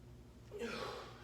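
A single deep inhaled breath, heard close and fairly quiet over a low background hum, taken before lowering into a front squat with a PVC pipe during a workout.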